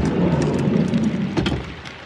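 Heavy rain pours down at an outdoor festival, a loud, dense rushing wash of drops drumming on surfaces, with a few sharper spatters standing out, and no talk.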